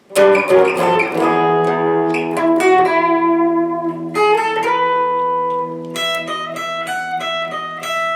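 A short electric guitar riff from the Grateful Dead's Jack Straw, played alone up close as quick picked notes and double stops that ring into sustained tones, with no talking.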